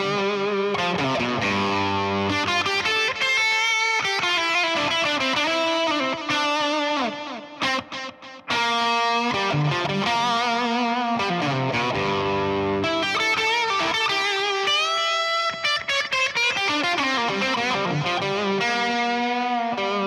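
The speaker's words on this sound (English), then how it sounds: "that's going to be the classic delay sounds that we're all used to" An electric guitar plays continuously through a delay pedal followed by a reverb pedal. Repeating echoes trail each note in a sustained, washed, spacious tone, with no talking.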